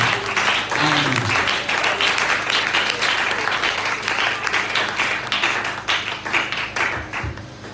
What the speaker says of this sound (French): Nous acclamons encore pour le Seigneur Jésus-Christ.